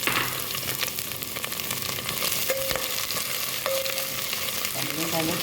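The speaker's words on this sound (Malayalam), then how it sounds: "ഇനി ഇതിലേക്ക് നമ്മൾ എടുത്ത് വെച്ചിരിക്കുന്ന ഇഞ്ചി ഇട്ട് കൊടുക്കുന്നു" Ginger sizzling in hot oil in a pan for Kuttanad-style duck curry, a dense continuous crackle with light stirring and a few brief tones, close and alone without speech.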